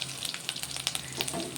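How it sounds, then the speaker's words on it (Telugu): Dried red chillies and spices crackle and spit in hot oil in a pan, a brief burst of bright, close frying pops over a constant sizzle. "కొంచెం ఎండుమిర్చి, ఇవన్నీ ఒక్కసారి ఫ్రై అవ్వాలి."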